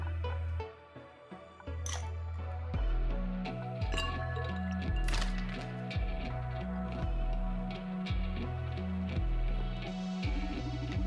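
Two ice cubes clinking into a glass of absinthe in a video game, small bright glassy taps set against steady looping background music.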